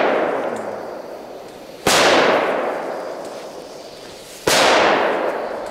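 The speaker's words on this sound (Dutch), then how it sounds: "Goeie knallers, man. Niet normaal." Two loud, sharp firecracker bangs from Polish market bangers, a couple of seconds apart, each blast decaying with a ringing tail into quieter outdoor background; no voices.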